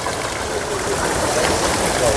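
Water circulates and runs out of a trout farm pond with a steady, full rushing flow, close and constant, with no talk.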